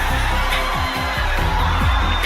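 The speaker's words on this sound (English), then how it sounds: "How about a round of applause for Miss Venezuela, everybody?" Audience at the Miss Universe 2025 pageant applauding and cheering for Miss Venezuela, a steady loud wash of clapping and crowd noise with occasional whoops throughout.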